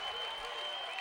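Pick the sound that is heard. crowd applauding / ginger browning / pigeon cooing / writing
crowd applauding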